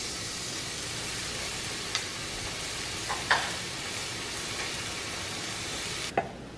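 A New York strip steak sears in a frying pan, giving a steady, moderately quiet sizzle throughout with a few small pops and taps.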